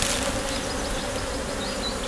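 Honey bees hum in a dense, steady buzz close by as a split colony is joined back to its parent hive in an apiary.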